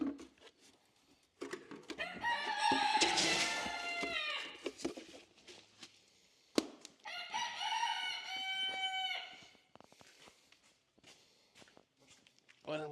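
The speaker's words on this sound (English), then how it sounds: "them roosters are hard at it this morning" Roosters crow loudly on a farm in the morning, two long cock-a-doodle-doo calls with clucking and footsteps between them, while a person talks nearby.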